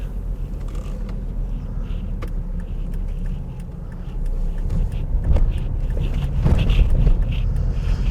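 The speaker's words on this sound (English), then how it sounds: "Let's see what it's like to drive 70 miles an hour on a dual carriageway on a lovely sunny day." A car cruises at 70 mph along a dual carriageway on a sunny day, giving a steady, loud road and engine rumble with tyre noise that swells slightly partway through.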